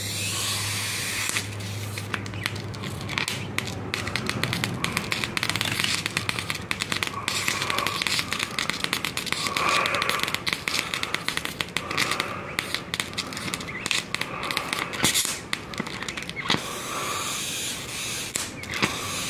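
A high-voltage electrical discharge in a pins-and-needles experiment gives off continuous dense crackling and hissing, with sharp snapping spikes throughout and no voices.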